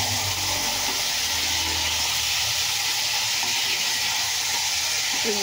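Tender boiled beef for kare-kare sautéing in a pan, giving a steady, close, hissing sizzle with a constant broad texture and little variation throughout.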